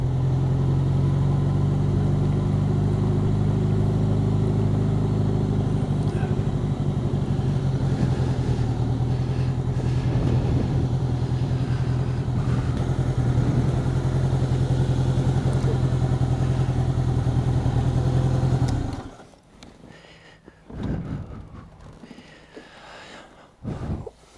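Honda Goldwing motorcycle riding along at steady speed, a loud continuous engine drone with wind rumble for about nineteen seconds, then cutting out abruptly to quieter ambient sounds.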